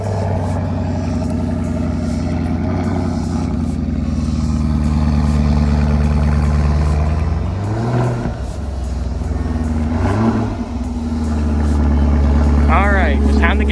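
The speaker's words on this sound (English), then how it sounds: "now that we got the car all fired up" A 2019 Chevrolet Camaro SS V8 rumbles at a steady, loud idle close by, with a couple of throttle blips swelling the engine note, while people talk over it.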